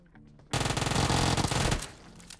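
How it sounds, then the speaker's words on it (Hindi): Close, loud automatic gunfire in PUBG Mobile, a dense sustained burst erupting after a quiet half second from a house just across the way, then cutting off and fading. "गन फाइट का जो साउंड है वो सामने वाले घर से आ रहे हैं।"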